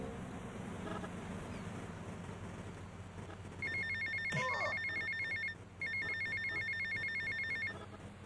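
A telephone rings at an airport in GTA Vice City, a steady repeating electronic ring sounding over a low ambient hum and hiss, with a brief pause in the middle.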